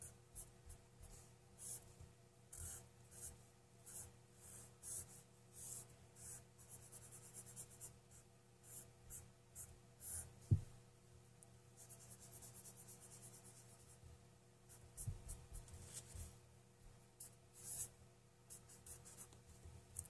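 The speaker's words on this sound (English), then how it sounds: "now we're going to draw you a schematic here" A pen scratches across paper while drawing a Tesla coil schematic. The faint, close strokes come in short irregular bursts, with quiet pauses between lines and a few sharper taps.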